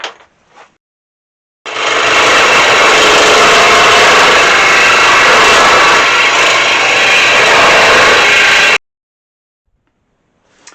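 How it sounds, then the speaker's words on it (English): A power saw cutting through a wooden blank for a spreader knife, loud and close, with one continuous steady whine lasting about seven seconds that starts and stops sharply. "we'll head back to the saw and just cut this this part here"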